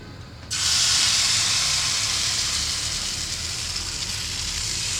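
Chilla batter hits a hot oiled kadhai and bursts into a loud, steady sizzle that holds strong for several seconds, close up and alone.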